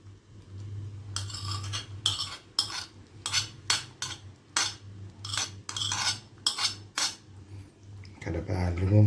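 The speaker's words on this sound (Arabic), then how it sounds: "كده بقى أقلبهم بالمعلقة" A metal spoon stirs rice pudding with cream in a pot, giving a series of close clinks and scrapes in irregular bursts over a low steady hum, with brief talk near the end.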